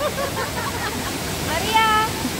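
Kasabangan waterfall on Biliran island, a steady broadband rush of falling water close by, with faint voices talking over it and a brief higher tonal sound near the end.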